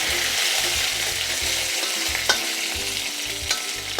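Four dried red chillies fry in hot oil for sambar, a constant close sizzle with rhythmic stirring scrapes and a few sharp crackles.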